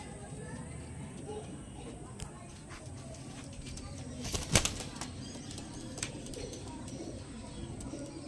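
A brief burst of pigeon wing flapping stands out near the middle, against a steady background murmur with occasional soft clicks and bird sounds.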